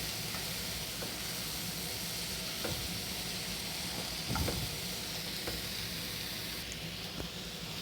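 Carrot with turmeric sautéing in a pan, a steady close sizzle and frying hiss with occasional stirring scrapes, no talking.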